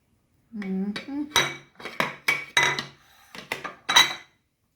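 A white ceramic dish is handled in a home kitchen during red velvet cake baking, giving a few clinks and knocks amid brief bursts of nearby talk.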